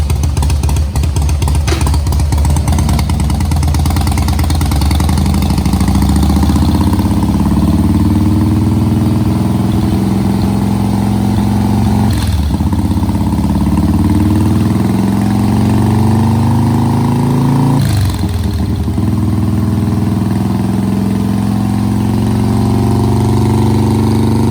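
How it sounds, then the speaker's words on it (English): A 1984 Harley-Davidson FXST Softail engine runs loud and close on a dyno, a deep continuous V-twin rumble that climbs in pitch through long revving pulls, drops back sharply twice, and rises again. "Let's see how much horsepower we can get out of this Harley."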